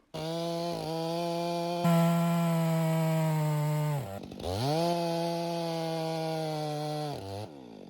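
A chainsaw runs loud and close, its engine droning steadily, bogging down and revving back up as it bites into a tree, then cutting out at the end as the tree tips back and pinches the saw.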